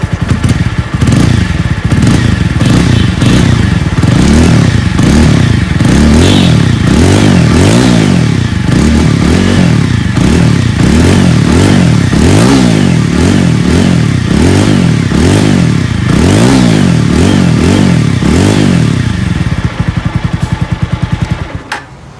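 A 200cc motorcycle exhaust on its first start of the day revs up and down again and again, a loud close throaty burble rising and falling in repeated waves, then settling as it cuts off.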